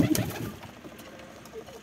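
Lakkha pigeons cooing near their nest, a soft low coo at the start that fades into quieter background rustle, close and faint.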